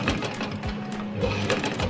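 A sewing machine runs steadily close by, stitching a round neckline with a short stitch length, its continuous mechanical whir holding an even level throughout with no speech.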